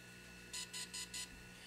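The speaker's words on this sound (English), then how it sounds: "while the Phantom itself is updating in the background, you can probably hear it beeping back there" A DJI Phantom 3 drone beeps while updating its software, four evenly spaced high electronic beeps sounding faint and off in the background over a low steady hum.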